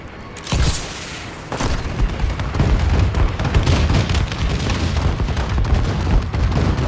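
Explosions from a friendly bombing run in the video game Call of Duty: Advanced Warfare: a loud boom, then a dense, continuous rumble of rolling blasts and crackling impacts, with no one speaking.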